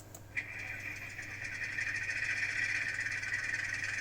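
A sound decoder in a Liliput O&K No.5 HOe/OO9 model diesel shunter plays an engine start-up: a short crank click, then a faint, steady synthesized engine hum settling into idle from a small speaker.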